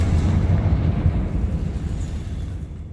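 A Confringo blasting spell explodes in Hogwarts Legacy, a loud, deep booming blast with rumbling low end that swells at once and then slowly fades away over a few seconds.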